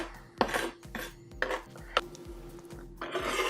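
A knife raps on a cutting board, giving garlic a rough chop in a home kitchen: a handful of separate, sharp knocks at an uneven pace over a steady low hum.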